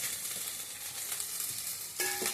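Garlic paste frying in a pan for capsicum curry, a soft, steady sizzle with light stirring, ending in a brief metallic clink.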